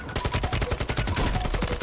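AK rifle fire in the video game Warzone, a loud rapid string of evenly spaced shots filling the whole moment.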